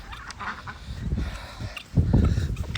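Chickens crowd around a homemade DIY feeder, with close, busy clucking and squawking that grows louder toward the end, with no one talking.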